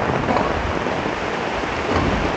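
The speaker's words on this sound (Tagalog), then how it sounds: "malakas na ang ulan" Heavy rain with wind during a storm roars steadily and loudly, a dense unbroken wash of noise with no voices.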